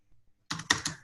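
A quick flurry of computer keyboard keystrokes, close and fairly loud, arrives after a brief quiet moment and lasts under a second.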